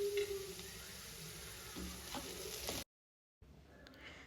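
Cumin seeds fry in hot oil for paneer palak fried rice, a dense, close crackling sizzle with a few stirring scrapes, briefly cutting out before a softer sizzle resumes.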